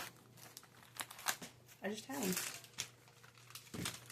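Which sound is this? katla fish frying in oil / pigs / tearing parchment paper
tearing parchment paper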